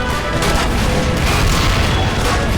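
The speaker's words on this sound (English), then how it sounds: "Explosion." A loud explosion rumbles through a video game siege battle, a dense, sustained roar of blasts and booming fire filling the whole moment without a break.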